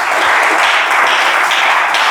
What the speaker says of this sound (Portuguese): Palmas que louvam o Senhor da glória.